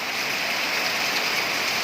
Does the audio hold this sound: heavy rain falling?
yes